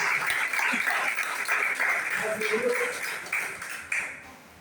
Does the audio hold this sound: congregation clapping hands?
yes